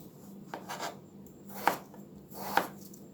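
A knife chopping potatoes into roughly one-inch cubes on a board, a few distinct cuts spaced about a second apart, close and fairly quiet with a faint scraping between strokes.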